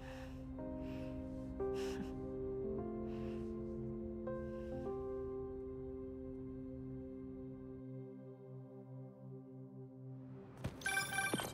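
A phone rings in Spider-Man 2 as a steady electronic ringtone of sustained tones that shift pitch and repeat, close and clear. It ends in a brief noisy burst.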